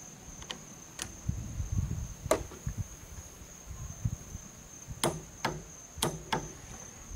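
Wrench tightening the barrel nut on a 22 ARC upper with a Proof Research stainless barrel, set to 45 foot-pounds: sharp, close clicks, some in quick pairs, spaced irregularly over faint background noise and a steady high whine.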